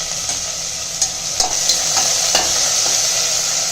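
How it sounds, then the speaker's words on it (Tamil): Onions sautéing in hot oil with roasted mustard seeds, urad dal and cumin, a steady bright sizzle close by with a few soft scrapes and clinks of a spoon stirring the pan, no talking. "வெங்காயம் சேர்த்து வதக்கிக்கலாம்."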